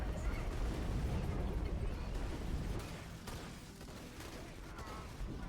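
Explosive Torgue guns firing in a modded Borderlands game produce a dense, rumbling barrage of blasts and pops, louder at first then easing slightly, heard fairly faint with rapid overlapping impacts.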